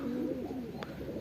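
A Gambir pigeon cooing nearby in a low, steady, rolling coo that runs through the whole moment, with one brief faint click partway through.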